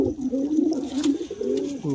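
Pigeons coo close by in a soft, throaty, repeated rolling call, continuous across the clip with no talking.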